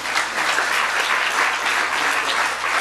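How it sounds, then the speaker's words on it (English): An award-ceremony audience applauds steadily and loudly for Charlie, a dense, continuous wash of many hands clapping from start to finish. "how about a round of applause for all Charlie does?"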